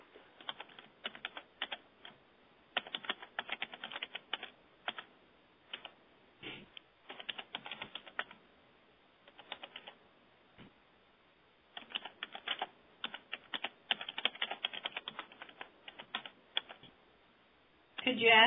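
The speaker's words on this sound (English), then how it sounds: "it looks like some more folks are typing" Several people type on computer keyboards, sending out bursts of fast clicking that start and stop across the span, faint and close, with short pauses between runs of keys.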